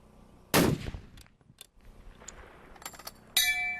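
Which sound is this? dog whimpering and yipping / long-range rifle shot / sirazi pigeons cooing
long-range rifle shot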